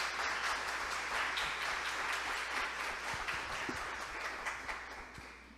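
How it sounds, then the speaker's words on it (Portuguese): A church congregation applauds together in a steady, dense clapping that fills the space and gradually fades toward the end. "Vamos aplaudir o poder de Deus."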